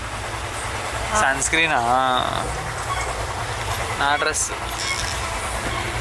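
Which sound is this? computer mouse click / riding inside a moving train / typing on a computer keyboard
riding inside a moving train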